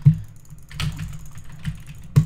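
A computer keyboard clatters at a desk, with a few separate loud keystrokes and a burst of quicker taps between them, close and clear with no talking.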